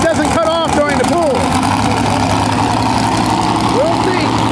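A pulling tractor's engine runs steadily at a county fair tractor pull in Anne Arundel County, a loud continuous low drone with voices talking over it.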